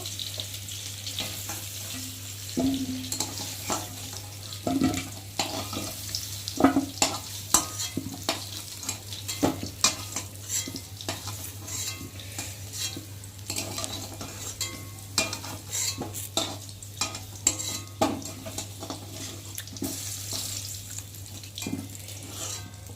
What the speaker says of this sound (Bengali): আমার আলু ভাজা হয়ে গেছে, দেখতে পাচ্ছ। আর এখন আমি আলুগুলোকে তুলে নেব।